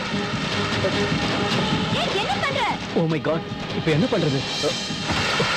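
Heavy rain pours down in a dense, unbroken hiss, while alarmed voices talk over it close by.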